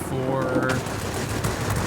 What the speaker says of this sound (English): like four of the machine guns and 2 of the Hispano cannons. And it obviously tears things up